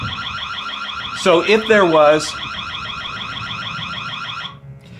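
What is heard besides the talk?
Techage security camera audible alarm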